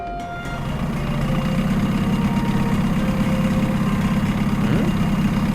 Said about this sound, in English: I heard the sound of an engine coming up behind us.